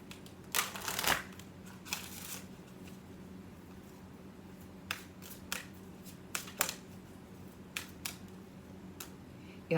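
Halloween oracle cards being shuffled and handled, with quiet, brisk riffling bursts and scattered soft card snaps spread across a calm, low-level background.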